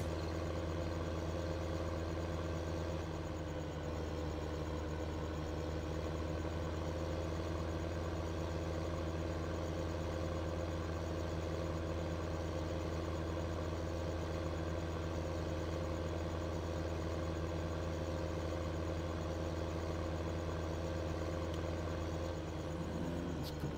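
Tractor engine idling steadily in Farming Simulator 15, a continuous low mechanical drone that stays level and close throughout with no talking.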